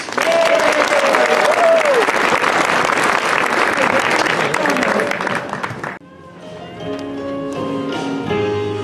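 A school Christmas concert audience claps loudly in sustained applause for the second and third grade singers, with a voice calling out over it before the clapping cuts off and quieter sounds follow.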